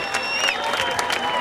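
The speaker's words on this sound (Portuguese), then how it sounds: "Galera, salva de palmas pro Lawrence!" A crowd at a skateboarding World Cup final in Fortaleza applauds and cheers for a skater, with steady clapping and scattered whistles and shouts blending into a dense roar.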